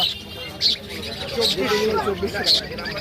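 Caged pet birds such as conures call at a crowded open-air bird market in Serampore. Short, sharp chirps repeat roughly once a second under steady nearby talking.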